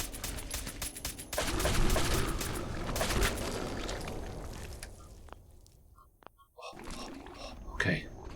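Bursts of automatic gunfire in Fallout 4 Survival mode, rapid rattling volleys close and loud early on, thinning to scattered single shots, with a voice grunting and talking over the action.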